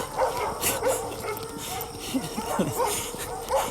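Several dogs barking and yipping at a moderate distance in heavy fog on a hiking trail, in irregular bursts, with some whimpering and a voice speaking faintly underneath.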